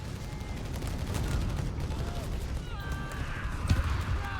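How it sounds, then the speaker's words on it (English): Off-map mortar barrage shells exploding in a Company of Heroes 3 battle, a steady rumble of distant blasts and crackling impacts running throughout, with faint voice chatter underneath. "Off-map mortar barrage doing some work there."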